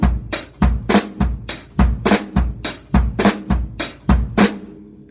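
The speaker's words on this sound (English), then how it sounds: "But if you take every other snare drum note and put it on the hi-hat," A drum fill on snare drum, bass drum and hi-hat, with every other snare note moved to the hi-hat, plays as a brisk, even pattern of close, loud strikes without any voices.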